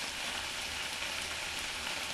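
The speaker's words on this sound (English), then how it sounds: "the bacon has started sizzling" Bacon sizzles steadily in a frying pan, a dense continuous crackling hiss at moderate level with no pauses and no voices.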